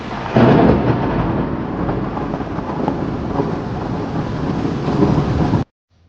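Heavy rain pours down with rumbling thunder at a roadside vegetable market, a dense, loud, continuous roar lasting several seconds before stopping abruptly.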